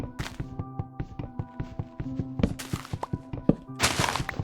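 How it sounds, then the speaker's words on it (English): Blocky wooden thunks of trees being chopped down in the Minecraft game, playing the Better Than Adventure version, come in a steady, rapid series of close, punchy hits with a few brighter crunches near the end, and no talking. "Well, let's continue chopping down trees."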